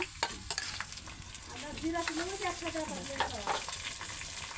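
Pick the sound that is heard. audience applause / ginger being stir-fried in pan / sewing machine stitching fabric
ginger being stir-fried in pan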